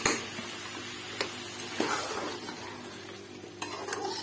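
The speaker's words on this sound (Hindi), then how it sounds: "इसको हम मिक्स करके इसमें ऐड कर देते हैं इस तरीके से।" Mutton korma being mixed and stirred in a pot makes quiet, close scraping and squishy stirring with a faint sizzle, plus a few sharp spoon knocks against the pot.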